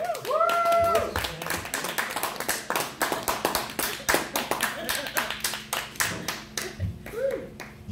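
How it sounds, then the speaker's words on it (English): An audience at an open mic comedy show applauds throughout, with dense, steady clapping of a small crowd nearby. Voices and a few cheers rise over the clapping near the start and again near the end. "put your hands together for Mr."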